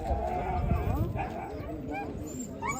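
Spaniel puppies at an outdoor dog market give a few short yips and barks under steady crowd chatter and people talking nearby, busy and moderately loud throughout.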